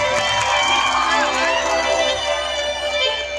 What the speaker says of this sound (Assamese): গাঁওবিলাকৰ কাৰণে ডাঙৰ হাত চাপৰ এটা বিচাৰিছে